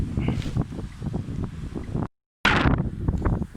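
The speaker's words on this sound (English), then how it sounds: "Well, the wind's really going for it now." Strong wind buffets the microphone on an open field during metal detecting, a loud continuous rumble that gusts and roars, broken by a brief dropout of silence before the wind surges back.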